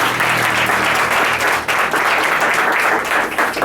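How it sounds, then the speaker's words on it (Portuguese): Sustained, loud applause from a congregation at an evening Pentecostal church service, dense broadband clapping continuing steadily throughout without speech. "E aplauda ao Senhor dessa noite."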